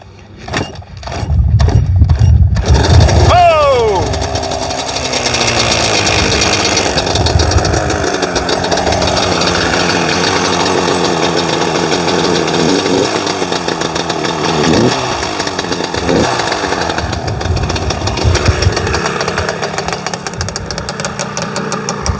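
A Yamaha Banshee quad's two-stroke engine, running rough with Mexican jetting, cranks and catches, then settles into a loud, raspy, uneven idle with occasional revs, close by.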